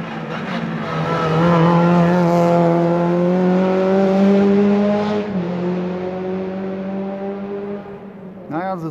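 Subaru Impreza 555 rally car engine on a gravel rally stage, a loud sustained roar with rising and falling harmonics as it passes close, fading slightly before a sharp rev burst at the end.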